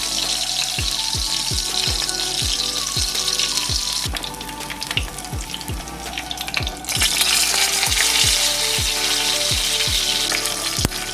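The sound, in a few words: short ribs searing in a pan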